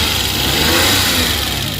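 A Suzuki Wagon's engine runs loud and close after starting, a steady mid-pitched hum with a slight rev, heard alone with no talk.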